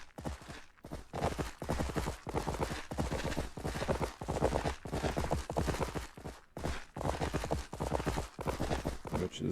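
Horse hooves clip-clop steadily in a Western frontier video game, a dense, continuous rhythmic trotting that stays loud and close throughout with no speech.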